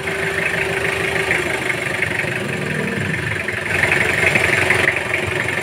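An air compressor's engine runs with a steady, loud mechanical hum and idle-like drone, continuous and close, with no talking over it.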